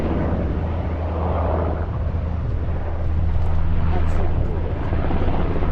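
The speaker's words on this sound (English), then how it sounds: "this big helicopter comes flying over at about 50 feet" A big Coast Guard military helicopter flies over at about 50 feet near Peggy's Cove, a loud, steady rotor and engine roar that swells slightly as it passes, with people talking underneath.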